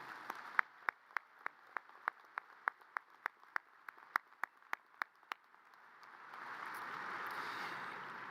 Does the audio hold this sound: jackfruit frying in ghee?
no